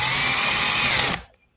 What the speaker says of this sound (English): they plastic weld these, so we're going to drill these out